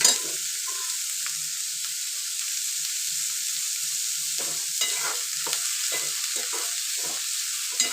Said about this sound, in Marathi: चांगलं भाजायचा कांदा मी कांदा जास्त घेतलाय